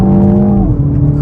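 A BMW Mini Cooper, front-wheel drive on skinny 205-wide tires, accelerates under load, its engine tone rising and then shifting as a gear changes, loud and close with no talk.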